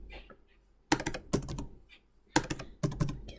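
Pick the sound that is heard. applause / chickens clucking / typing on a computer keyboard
typing on a computer keyboard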